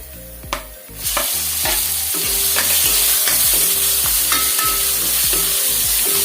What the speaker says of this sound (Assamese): বিলাহীখিনি গলালৈকে ভাজি ল'ম